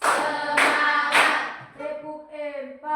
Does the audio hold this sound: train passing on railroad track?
no